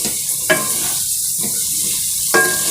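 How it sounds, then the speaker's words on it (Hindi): Halved boiled eggs fry in masala in a pan for potato-and-egg curry, giving a steady sizzle broken by a few sharp stirring scrapes of the spoon, with no talking. "तो अब इसको इस तरह से 3 से 4 मिनट तक भून लेंगे"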